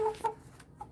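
A large hen clucks in a few short, soft calls, fairly quiet and close, with no talking over them.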